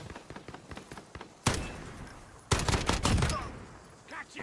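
Multiplayer gunfire in Call of Duty Modern Warfare: a rapid burst of shots, then a pause, then a longer sustained volley, loud against quieter scattered in-game noises and footsteps, with a player's voice talking now and then.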